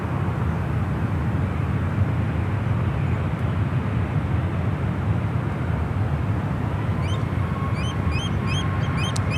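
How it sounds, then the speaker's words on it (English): Airbus A380 jet landing on runway 19 left at San Francisco airport, a loud, continuous broadband roar of engines throughout, with faint bird calls toward the end. "This will be the first time I've seen an A380 Super land on runway 19 left."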